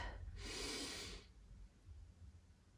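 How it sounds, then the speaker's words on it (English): A single deep inhale taken during a chest-opener stretch that works around the ribs, a close breathy rush lasting about a second, then quiet room tone. "Nice deep breath in here, really focusing that breathing again, round the ribs."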